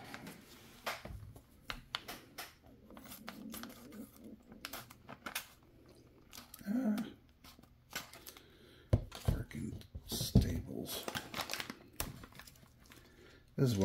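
Scissors and gloved hands open plastic packaging for a Traxxas TRX-4M crawler build, with irregular close crinkling, rustling and snipping bursts and a voice at times.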